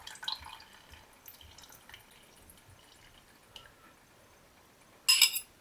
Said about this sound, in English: I'm going to drain the fluid from the juices in there.